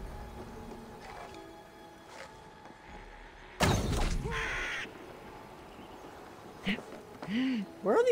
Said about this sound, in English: Where are these birds coming from?